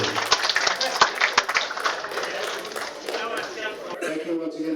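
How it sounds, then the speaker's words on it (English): A crowd at the Australian Junior Nationals snooker event breaks into a round of applause. Sharp individual claps are clear at first, then the clapping thins out under room chatter. "Let's give a round of applause for CueballTV."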